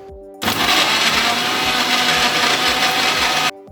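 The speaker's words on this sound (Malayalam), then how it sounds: "ഇനി ഇത് നമുക്ക് നന്നായിട്ടൊന്ന് അടിച്ചെടുക്കണം." A mixer grinder runs loud and steady, blending raw mango with sugar for juice, starting abruptly and stopping after about three seconds.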